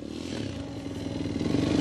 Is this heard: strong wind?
no